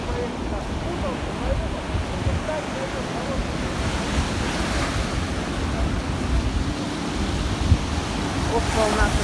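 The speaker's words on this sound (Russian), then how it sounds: "как море разливается сильно сегодня" Sea waves surge and wash onto the Black Sea shore at Anapa, a continuous broad rush of surf with wind buffeting the microphone, steady and fairly close.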